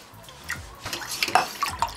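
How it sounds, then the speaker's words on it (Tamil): Water poured into simmering lentil rasam in a cooking pot, a soft liquid trickle and splash with faint drips over about two seconds, close by and fairly quiet. "நான் இன்னும் கொஞ்சம் தண்ணி ஊற்றிக்கிறேன்."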